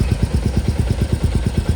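A motorcycle fitted with aftermarket dual projector fog lights runs at a steady idle, its close, loud engine thumping in an even rapid rhythm throughout, no speech.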